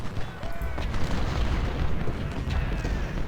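Cannon fire from 10-pounder guns rumbles through a Civil War battle in the strategy game Ultimate General: Civil War, heavy low booms and dense battle noise rolling continuously with faint whistling shells overhead.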